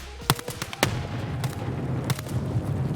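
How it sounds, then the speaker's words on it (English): A grenade detonates in the shooter game Escape From Tarkov, heard as a few sharp booming bursts followed by a rumbling low tail that lingers for several seconds. "Right about where this grenade's gonna blow."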